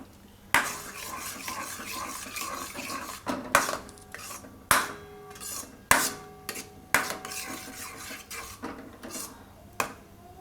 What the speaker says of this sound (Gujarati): આને મિક્સ કરી લેવું આમાં બધું, દૂધમાં ભાત ને બધું.